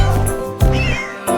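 Cartoon-style cat meows in a children's song, several bright meows over a loud, busy musical backing with a short gap between calls.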